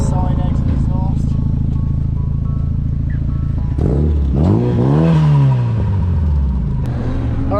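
A Renault Clio track car fitted with a Megane RS engine and side-exit exhaust idles with a steady low drone, then revs up twice in rising and falling sweeps, loud and close.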